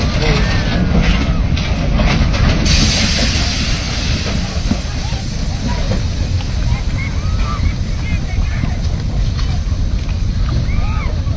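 A mudslide debris flow (huayco) in the Santa Lucía community rushes past a trapped car, a loud, continuous churning roar of water and debris with wind buffeting, and voices in the background.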